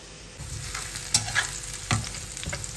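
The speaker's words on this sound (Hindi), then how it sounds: "अनियन को फ्राई करेंगे, सौते करेंगे" Onions sauté and fry in a pan with a steady close sizzle, broken by a few clattering stirs of a utensil against the pan, with no talking.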